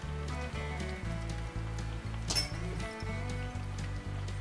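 A pot of Romanian cabbage rolls (sarmale) bubbles after about an hour of simmering, a soft steady popping and gurgling with a low humming undertone and a brief clink partway through.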